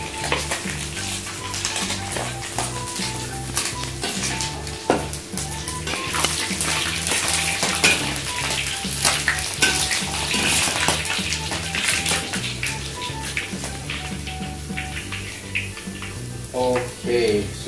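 Small, unevenly cut goby fish pieces fry in hot oil, crackling and sizzling steadily at close range with sharp pops and spatters throughout, and no voices are heard.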